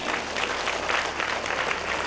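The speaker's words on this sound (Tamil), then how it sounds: "கைதட்டுங்க." Audience at a Catholic basilica church festival claps steadily, a dense, moderately distant burst of applause filling about two seconds with no talk over it.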